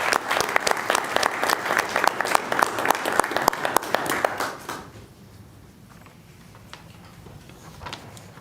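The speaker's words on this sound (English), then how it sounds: "Let's give them a round of applause." A city commission meeting audience applauds public works staff, a brisk patter of fairly close clapping that stops after about five seconds, leaving quiet room tone with a few stray taps.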